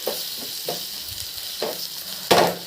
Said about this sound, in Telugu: ఇక వీటిని మనం గోల్డెన్ కలర్ వచ్చేంత వరకు కూడా వేయించుకుందాము.